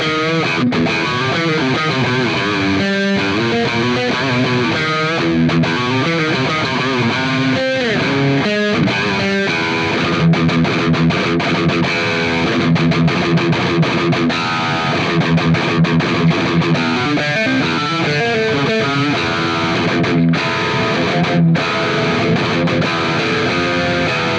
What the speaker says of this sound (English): throw on a bit of gain and get those kind of split coil sounds